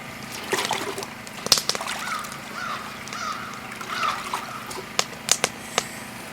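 A freshly caught lake trout is rinsed in water with soft sloshing and splashing, up close but faint, while crows caw in the background outdoors.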